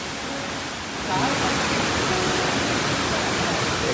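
Marmala waterfall near Kottayam, part of the Vazhikkadavu river, pours with a steady broadband roar that swells slightly louder after the first second and holds constant, close and continuous.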